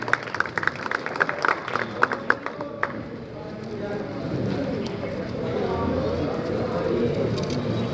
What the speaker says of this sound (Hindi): जोरदार ताली हो जाए सभी मेहमानों के लिए